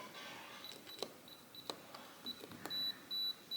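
A Schlage keypad lock gives short electronic beeps while a code is entered, faint and close, several separate tones with small button clicks between them in a quiet room.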